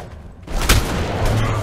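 A loud gunshot in ARK Survival Evolved's Scorched Earth co-op mode cracks out once near the start, then fades into a lingering, rumbling din.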